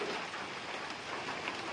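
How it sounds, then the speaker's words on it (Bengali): Heavy rain pours down outside in a steady, dense hiss that holds at an even level throughout, with no voices over it. "আর বৃষ্টিটা প্রচুর জোরে পড়ছে"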